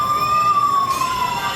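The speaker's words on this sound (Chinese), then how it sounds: "饭店火灾警报器突然响起" A hotel fire alarm wailing in a newly opened hotel, a loud, close electronic tone holding steady, then gliding slightly downward, sounding alone without talk.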